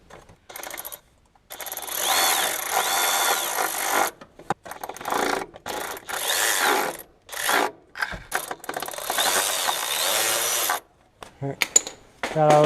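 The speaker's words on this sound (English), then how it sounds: "Just gonna get them started with this and then snug them on up with a ratchet." A ratchet snugs glow plugs into a 6.0 Powerstroke diesel engine, with repeated close clicking bursts that start and stop in uneven runs, each lasting a second or two, over about twelve seconds with no talking.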